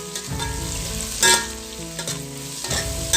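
Onions frying and browning in a pan with a little salt for a red meat korma, a close steady sizzle with a few brief scraping stirs and tonal hum underneath.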